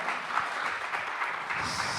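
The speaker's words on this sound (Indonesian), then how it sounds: "tepuk tangan buat Dokter Nawar ya" Audience clapping for a speaker at an inspiring youth forum, a steady wash of applause lasting about two seconds at moderate distance.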